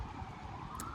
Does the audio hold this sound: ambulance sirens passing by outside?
yes